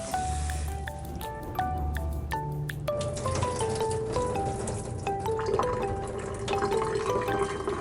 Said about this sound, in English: I'm gonna rinse it again before I add it to the skillet.